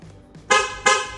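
Two short, loud blasts of an aftermarket Korsa car horn on a Toyota Raize in quick succession, close by, after a brief fainter honk.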